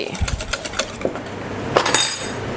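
A whisk beats brown sugar into chocolate-banana brownie batter in a bowl, giving quick, light rhythmic clinks and taps against the side, close and moderately loud, with a brief pause before a final flurry.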